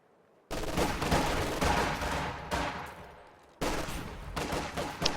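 Dense machine gun fire from a light machine gun squad in a real-time strategy match, heard as rapid continuous bursts that fill most of the clip, broken by a brief pause before another loud burst.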